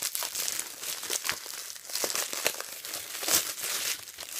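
Continuous close crinkling and tearing of plastic wrap as a Blu-ray/DVD combo case is unwrapped, busy and uneven with small sharp crackles throughout.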